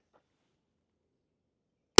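A single sharp pistol shot from a Sig 1911 Series X Stainless, fed from a Chip McCormick Power 10 magazine, bursts out loud and close at the very end of near-silence, cut off abruptly.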